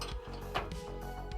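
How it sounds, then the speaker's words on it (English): A ratchet clicking as a bolt is tightened in a garage, a quick series of close mechanical clicks and grinding turns over a low hum. "I might be able to just tighten the bolt."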